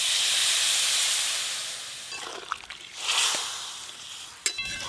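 Water poured into a hot pan of chilli powder for a jackfruit seed curry hisses loudly and steadily at first, then fades into softer sputtering with a few light clinks near the end.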